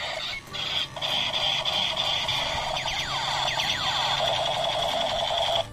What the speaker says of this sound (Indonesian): tembakan AK-47